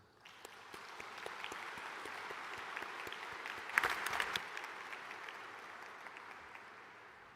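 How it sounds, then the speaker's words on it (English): Applause from a conference audience at the opening session of the 13th WTO Ministerial Conference, a steady, distant wash of clapping that swells briefly midway and fades at the end, with no talk over it. "Let us give a round of applause for our MC13 host, the United Arab Emirates"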